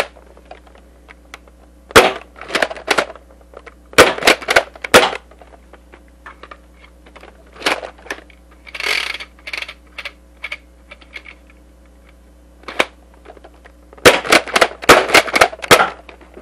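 A Dart Zone Max Tomcat foam dart blaster fires in several loud bursts of sharp, rapid mechanical snaps and clatters, heard up close, with quieter handling clicks between the volleys and no voices.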